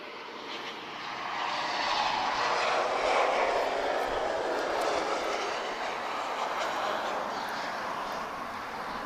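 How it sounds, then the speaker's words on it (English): A TAP Air Portugal Embraer E190 advanced range jet arriving from Porto at Lisbon Airport, a steady broad engine roar that swells in the first two seconds and holds at moderate distance, no voices. "we've just got TP1951 just arriving from lovely Porto. Embraer E190 advanced range"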